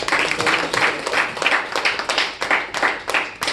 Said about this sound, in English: I would like to give a round of applause to our TMoD for the day, Toastmaster Manas.